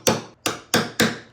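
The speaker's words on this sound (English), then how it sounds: "Now you can use a nail set and a hammer to get these nails in all the way." Four sharp, evenly spaced hammer strikes on a nail set, driving nails fully into wood, each blow ringing briefly before the next, close and alone.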